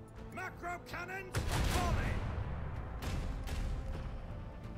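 Macro cannon fire from a starship in the Warhammer 40K Rogue Trader video game, a sustained loud rumbling barrage of booming blasts lasting several seconds after a short stretch of music and game sounds.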